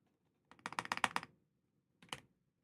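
Quick bursts of keystrokes on a new Wooting 80HE keyboard, a rapid run of about ten crisp clacks followed by a short double tap after a pause, soft and close with no talking.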